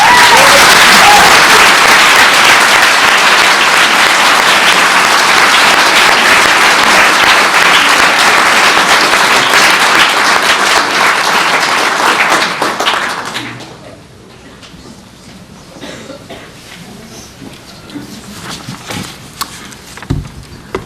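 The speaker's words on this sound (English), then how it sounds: "So both clapping and jazz hands are most welcome." Loud, dense applause from a live audience at a panel talk fills the first dozen seconds, then fades out abruptly into room noise with scattered claps and faint stirring.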